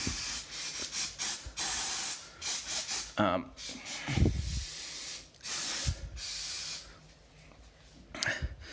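CRC Pro Series brake cleaner sprayed from a large aerosol can onto car brakes on a Cadillac CTS-V, loud bursts of hissing spray starting and stopping close by.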